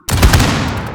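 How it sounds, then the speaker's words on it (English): A loud, close gunshot from a farewell salute rings out, a single sharp blast whose echo trails off across the remaining second. "I'm gonna fire 7 shots"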